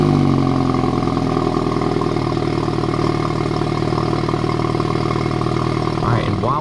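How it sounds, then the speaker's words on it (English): A BMW F30 sedan's engine runs with a steady, close mid-pitched idle hum throughout, shifting slightly near the end, while a person talks over it. "Anyways, let's turn on the car."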